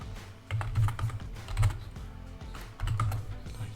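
Computer keyboard keys being typed in short bursts of quick, close clicks with brief pauses between, as someone enters a password; no voices.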